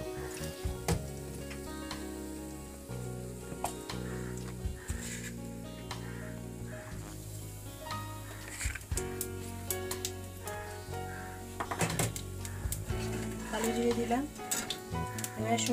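Black cumin seeds hit hot oil in a kadai left over from frying tangra fish, giving a steady sizzling hiss with light stirring. The frying sits beneath prominent background music.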